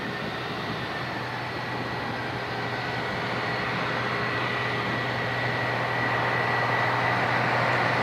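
Ryanair Boeing 737 Max 8 at Dublin Airport, a loud, steady jet engine roar with a constant hum, building slightly toward the end, no voices.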